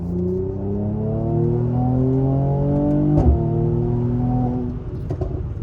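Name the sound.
Mercedes-AMG C43 W205 accelerating with exhaust pops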